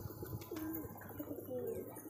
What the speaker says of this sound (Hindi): दीवार पे कबूतर बैठे हैं हमारे